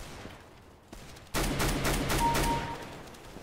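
Counter-Strike: Global Offensive gunfire starting after a quiet lead-in, then a loud close string of rapid shots in quick succession, alone without talk.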